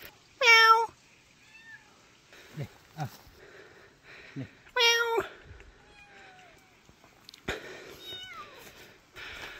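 A small kitten gives two loud, high meows a few seconds apart, with softer rustles and a faint voice in between.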